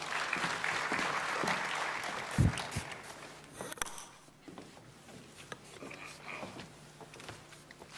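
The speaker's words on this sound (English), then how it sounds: "can we just, for all our speakers, give them a big round of applause" An audience at a provincial crime summit applauds its speakers, with a sustained round of clapping that gradually thins and fades toward the end.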